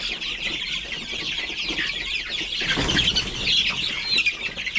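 Native darag chickens cluck and flap their wings close by, a busy flurry of wingbeats and clucking that swells midway and carries on steadily with no talk.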